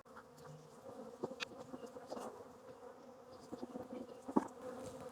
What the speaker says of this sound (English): The bees really are rather calm today.